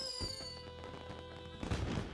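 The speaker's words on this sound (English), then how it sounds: "He sure looks nice exploding against the night sky." Video game explosion of a villain bursting like fireworks in The Secret of Monkey Island, a continuous crackling, booming burst over a sustained musical tone, swelling louder near the end.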